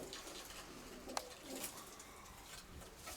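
Pigeons coo softly in a loft during a pigeon sale, low murmuring calls repeating at middle distance, with a brief sharp click and faint rustling, no voices.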